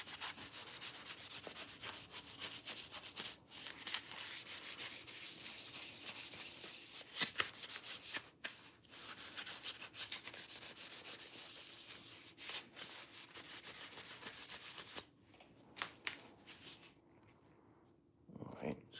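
Steady hand sanding rubs across a scratched Goped scooter part, a continuous dense scraping with brief pauses and strokes shifting in pace, close and fairly loud, easing toward the end.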